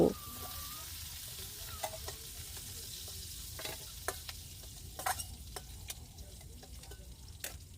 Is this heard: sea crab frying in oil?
yes